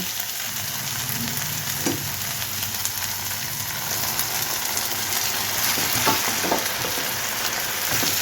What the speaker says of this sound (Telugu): టమాటో ఉల్లిపాయ కలిపిన ముద్ద పచ్చివాసన పోయే వరకు చక్కగా వేగాలండి